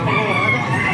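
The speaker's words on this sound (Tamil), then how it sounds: "2 கோழி குஞ்சு." Steady, busy chirping from two chicken chicks fills the whole second, close and fairly loud, with faint murmuring in the background.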